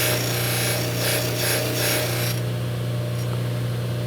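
Baldor bench buffer deburring painted, countersunk inside edges of a metal part: a steady motor hum under a rough rubbing grind that pulses in short bursts, then eases to a smoother whir.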